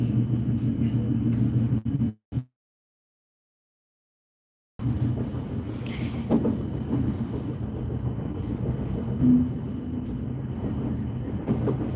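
A train in the Netherlands rumbles along with a steady low roar, cutting out abruptly into silence for a few seconds before the rumbling resumes.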